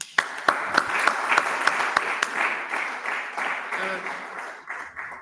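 An audience at a Deep Learning IndabaX Congo 2024 conference applauds after a talk, with steady, dense clapping for several seconds, a few sharp claps standing out near the start, and faint murmuring beneath.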